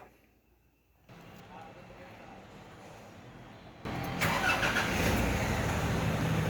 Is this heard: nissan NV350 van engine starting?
yes